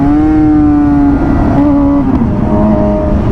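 A Suzuki GSX-R sport motorcycle ridden hard, its engine holding loud, close revs that drop and climb again between gear changes, with no voices.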